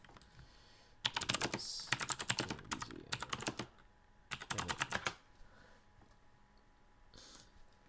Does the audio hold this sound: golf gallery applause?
no